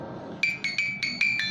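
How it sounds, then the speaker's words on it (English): Small musical box whose turning roller plucks metal pins, giving five or six bright, close, chiming notes in quick succession. "this roller will force this pin to move up and down, creating vibration, and hence you can hear sound."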